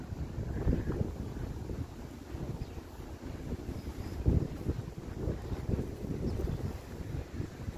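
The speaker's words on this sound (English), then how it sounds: "More wind." Gusty wind buffets the microphone outdoors at a historic burial ground, a steady low roar that swells in louder gusts around the middle of the clip, with no voices.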